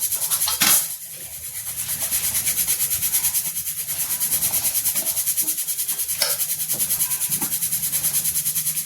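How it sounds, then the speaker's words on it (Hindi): Gram flour (besan) batter is beaten in a bowl with fast, regular rhythmic strokes, a loud, close, continuous swishing rub with a couple of sharper knocks, no talking. "अब देखिए इसको हम फेंट लेते हैं।"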